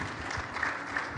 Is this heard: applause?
yes